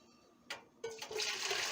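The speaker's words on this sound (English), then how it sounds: "what I'm going to do is transfer my boiling water" Boiling water pours and splashes steadily into a steamer pot after a brief splash, a continuous rushing stream close by.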